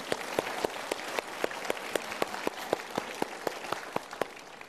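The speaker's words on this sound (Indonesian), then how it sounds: "Kita berikan tepuk tangan" A seminar audience at a Mario Teguh motivational talk breaks into applause, a dense, even patter of clapping with crisp individual claps popping out steadily throughout.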